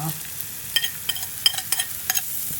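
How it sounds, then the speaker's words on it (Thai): Galangal, lemongrass, kaffir lime leaves, chili, shallot and garlic stir-fried in a pan, with a steady close sizzle and scattered sharp scrapes and taps of the utensil against the pan. "ใส่ลงไป ผัดให้มันหอมครับ"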